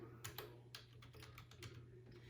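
Typing on a computer keyboard during an online lesson: a quick series of close, crisp key clicks in an uneven rhythm, faint and alone with no talk.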